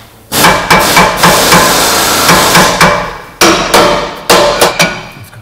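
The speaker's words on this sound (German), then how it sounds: "Jetzt auch den Hammer." Loud, heavy hammer blows ring out one after another at an uneven pace while working on a car intake manifold, each striking with a sharp metallic crack and a short decay.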